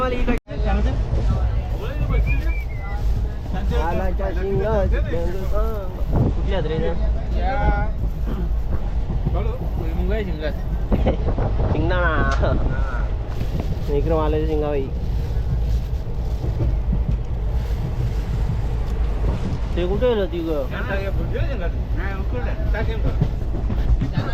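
Inside a moving passenger train, a constant loud rumble and rattle of the carriage runs throughout, with several people talking over it.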